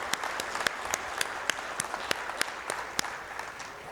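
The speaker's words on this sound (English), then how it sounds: "give a round of applause too" A small audience at an automobilia foundation Hall of Fame event claps for the docents, sparse, distinct handclaps forming a light, steady round of applause.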